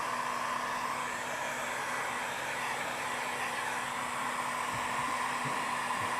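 A heat gun blows steadily and unbroken while warming vinyl wrap on a reflector of a 2022 BMW G80 M3, a close, even hiss of hot air with no pauses.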